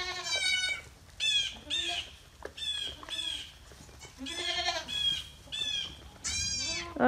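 Baby goats bleat repeatedly in loud, wavering cries, several calls overlapping from close by, with short pauses between bursts on a farm.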